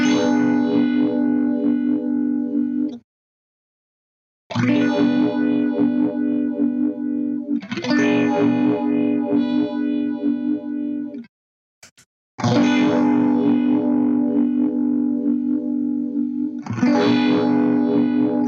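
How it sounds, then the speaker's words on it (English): An electric guitar plays through a Keeley phaser pedal set to four stages like a Phase 90 block logo, loud sustained chords with a sweeping swirl, broken up by short silent gaps between phrases. "If we want to do the Phase 90 block logo, switch to 4 phases."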